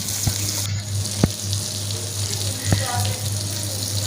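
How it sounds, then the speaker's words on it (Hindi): Raw minced-meat kebabs shallow frying in oil in a pan give a steady close hiss and sizzle over a low hum, with a few sharp pops and crackles breaking through. "मैं शैलो फ्राई कर रही हूँ।"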